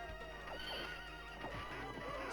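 A horse whinnies and clatters along at a gallop in the 1991 arcade game Knights of the Round, with the neigh and hoofbeats loud and close over steady game background sound.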